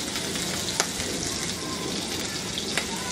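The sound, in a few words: frying grated ginger and dried red chillies in a pan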